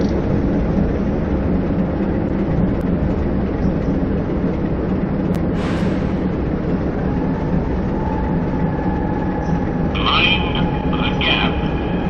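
A train rumbles past at close range in a train simulator, a steady heavy roar of wagons with brief squeals and a faint horn-like tone near the end.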